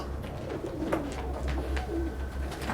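Pigeons cooing near a day laborers' hotel, soft repeated low coos in a steady murmur over faint background noise.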